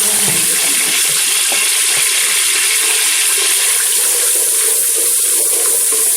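A loud, steady hiss of garlic ginger paste sizzling in hot oil runs continuously throughout, with no talking.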